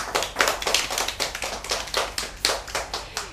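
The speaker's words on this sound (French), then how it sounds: "On s'applaudit enfin une dernière fois." A small audience claps in a quick, steady patter for a few seconds, the hand claps distinct and close, with no talking.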